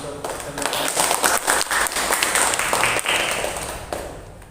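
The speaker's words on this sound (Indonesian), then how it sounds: "Kalau tidak ada, ya tepuk tangan untuk semuanya." Classroom applause for group presentations: a burst of many hands clapping at once, dense and fairly loud, holding steady for several seconds before tapering off at the end.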